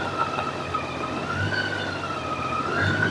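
Horn of a Honda Goldwing motorcycle, a steady sustained tone held for about three seconds over low engine rumble.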